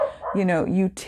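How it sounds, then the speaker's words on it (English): A dog gives a couple of sharp, close barks, one short yip rising into a louder, longer bark, with a brief voice sound at the end. "And I apologize for my dog barking."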